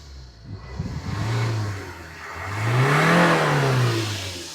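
A Maruti Swift VDI diesel car engine runs up and down, the revs swelling twice in a rising and falling whir, heard close and moderately loud with no talking.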